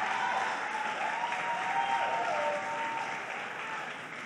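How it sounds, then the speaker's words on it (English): Applause from an audience at a governor's announcement of Brooklyn health and housing partnerships, a steady wash of many hands clapping at moderate level throughout, with a faint sustained tone running beneath it. "Applaud for that."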